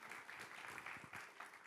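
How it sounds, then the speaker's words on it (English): Audience applause for panelists leaving the stage at an expert property-investment event, a steady wash of clapping lasting under two seconds at moderate, fairly distant level. "give them another round of applause as they make their way from the stage"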